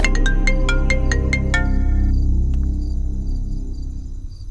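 A mobile phone rings with an incoming call from mother, a rapid series of bright electronic tone pulses followed by a longer held tone that cuts off, leaving a low room hum.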